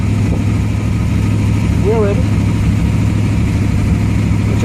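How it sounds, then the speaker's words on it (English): An engine runs at a steady idle, a loud, continuous low rumble that fills the whole stretch, with a brief spoken remark partway through. "Ignition on, push starter button, give a little throttle, and the engine fires up."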